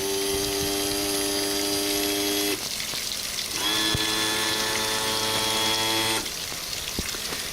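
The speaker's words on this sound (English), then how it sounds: "we're going to show the motor going up and down" The electric trim motor on a 1996 Ranger Cherokee 238 boat tilts the outboard with a steady high whine, runs for a few seconds, pauses briefly, then whines again for a second stretch before stopping, close and clear.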